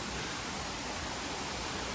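Steady broadband rushing of Tan Rua Waterfall in the Koh Samui jungle near Mae Nam, a constant even roar of falling water with no talk over it.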